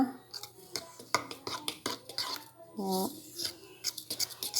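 Gluten-free polvilho dough being stirred in a bowl for fried sweet biscuits, with repeated clinking and scraping of a utensil against the bowl in an irregular rhythm, and a person briefly speaking.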